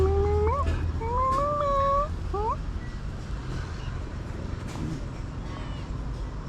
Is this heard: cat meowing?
yes